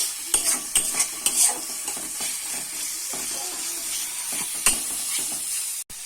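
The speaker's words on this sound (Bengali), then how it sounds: "মশলাটা আমি কষিয়ে নিচ্ছি ভালো করে।" Masala spices, including Kashmiri red chilli, fry in a pan for a Bengali mushroom curry. Close sizzling runs under repeated scraping stirs with a few sharper clinks, and no voice is heard.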